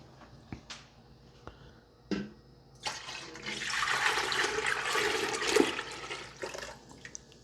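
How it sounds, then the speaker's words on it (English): Chokecherry liquid is poured from a container back into a cooking pot, a few light clinks first, then a steady splashing pour lasting several seconds, close and fairly loud. "So now we need to transfer this liquid back into the pot here."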